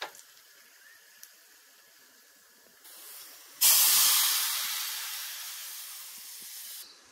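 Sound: spices sizzling in hot oil while tempering for snake gourd kootu

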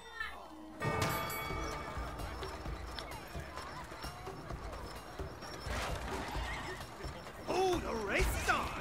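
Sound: horse neighing and galloping, video game

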